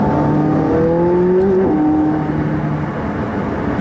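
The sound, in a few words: McLaren 675LT engine revving, shifted into third gear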